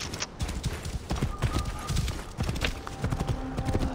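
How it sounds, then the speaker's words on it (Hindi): A horse in Assassin's Creed Origins trots and gallops with steady, close, loud hoof clip-clops and a brief whinny, heard alone without talk. "घोड़ा बुलाते हैं। आ जा घोड़ा"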